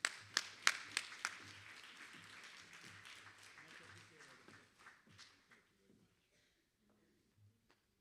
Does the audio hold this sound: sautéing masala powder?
no